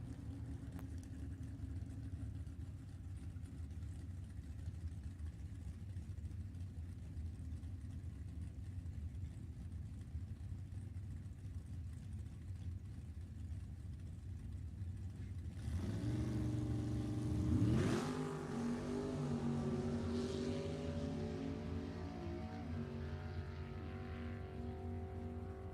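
Nostalgia drag racing cars at an NHRA Heritage Series event: a steady far-off engine drone gives way to a loud, close roar as cars launch and pass, with revving, gear-shift pitch sweeps and tire smoke, then fading into continued rumble.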